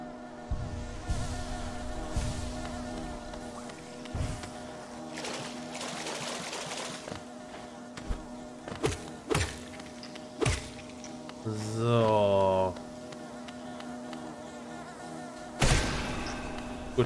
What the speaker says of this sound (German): Aber zumindest erklärt das jetzt hier gerade die Bienen.